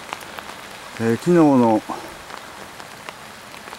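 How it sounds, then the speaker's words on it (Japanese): Rain patters steadily on the surface of a duck pond outdoors, a soft continuous hiss of drops, while a person speaks briefly partway through. "雨が降ってるんですけど"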